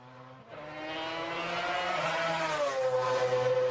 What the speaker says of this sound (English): just listen to how his engine sounds